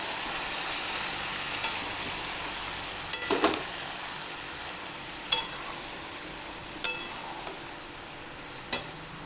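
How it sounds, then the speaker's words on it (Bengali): Mixed vegetables with spices and a splash of water stirred in a pan, a steady low sizzle under a few sharp clinks of a utensil against the pan, close and alone without talk. "জল দিয়ে একটু এটাকে নেড়ে দেবো।"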